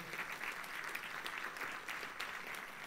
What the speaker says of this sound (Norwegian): en stor applaus til deltakerne i